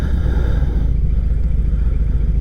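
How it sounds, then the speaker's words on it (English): A nearby vehicle engine braking on a street close to the city, a steady low rumbling drone that runs loud and unbroken throughout, with no talking. "this guy's like braking or engine braking"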